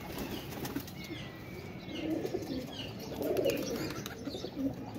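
Pigeons in a loft, a pair kept for breeding, with soft low cooing and wing flaps that rise and fall throughout, close by over faint background bird chirps.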